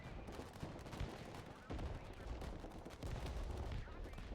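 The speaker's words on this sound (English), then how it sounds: "We're just going to start dropping artillery." Artillery barrages in the military strategy game Broken Arrow, a dense, continuous roll of heavy blasts and gunfire with sharper impacts near 1.7 and 3 seconds, loud and sustained with no speech.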